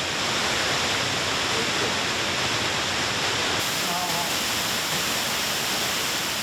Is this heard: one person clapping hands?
no